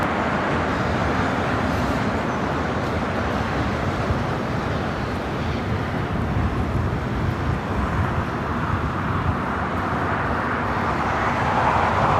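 An American Airlines jet takes off from runway 25 Right at Los Angeles International Airport, its engines a loud, steady broadband roar that holds for the whole stretch and swells slightly toward the end.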